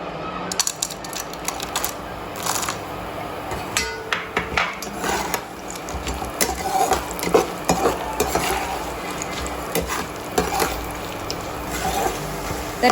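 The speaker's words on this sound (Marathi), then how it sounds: "तर आता आपण याच्यामध्ये हळकुंड तळून घेऊयात" Small pieces of dried turmeric root fry in hot oil, crackling and sizzling while a metal spoon repeatedly clinks and scrapes against the pan in an irregular, loud rhythm, with no talk.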